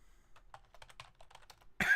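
Quick, light keystrokes on a computer keyboard tap out a short burst, close and soft, ending in a sudden louder thump.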